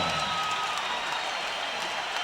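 A boxing arena crowd applauding two featherweight fighters after a knockout in round eight, a continuous, even roar of clapping from a large audience with no pauses.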